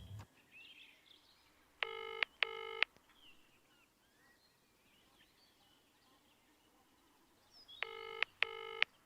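Two quick bursts of touch-tone dialing beeps, a pause with faint bird chirps, then two more beep bursts near the end; no ringing is evident.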